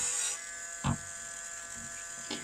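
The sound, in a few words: sanding a cane bowl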